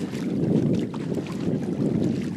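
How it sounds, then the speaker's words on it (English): Steady rushing wind and water noise aboard a sailboat moving under its head sail in really light winds, a continuous loud broadband wash with no talk. "Really light winds to try her out for the first time."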